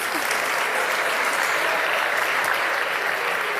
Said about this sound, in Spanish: A ver, un aplauso muy grande otra vez